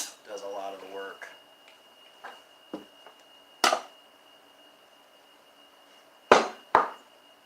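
Heavy knife blade slicing through well-chilled food, giving a few separate sharp cutting and tapping strikes spaced out after a brief stretch of talk, close and fairly clear.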